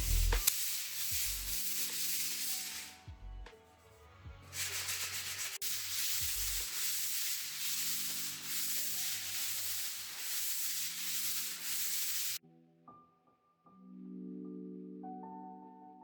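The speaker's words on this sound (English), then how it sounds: "It looked smooth to me, but it needed to be sanded, so I was told. So sanding we did." Steady abrasive sanding on a wall, continuous scraping in long bursts with brief pauses, fairly close, with a few low tonal hums near the end.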